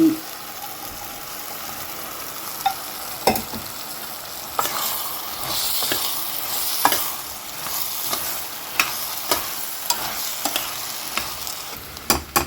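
Turnips and radish sizzle in a hot pan while a utensil scrapes and clacks through them in irregular strokes, the frying hiss steady beneath the sharp stirring knocks.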